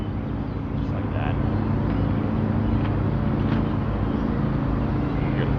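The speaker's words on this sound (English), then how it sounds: "You hear the tractor in the background." A tractor engine runs steadily in the background on an outdoor field, a continuous low rumble mixed with wind noise and faint voices.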